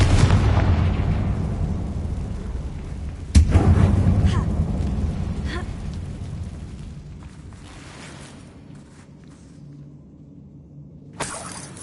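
A Confringo spell blast in Hogwarts Legacy, played on PS5 in the Goblin Mines, booms out loud at the start, followed by a second sharp explosion and a long rumbling decay, with another burst near the end.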